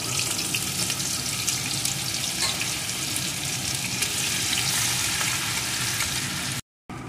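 Crushed garlic and a piece of ginger go into hot oil with reddened whole cumin tempering for jackfruit dalna. A steady, close, crackling sizzle fills the clip, broken by a brief dropout near the end, with no speech.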